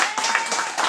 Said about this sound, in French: On applaudit Jean-Paul.